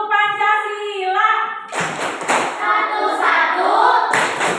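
A class of students claps the Tepuk Pancasila pattern in a classroom, crisp rhythmic hand claps in short bursts mixed with children's voices calling out together.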